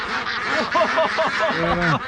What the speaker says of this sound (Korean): 아니 닭이 아니라 오리가 날 수가 있구나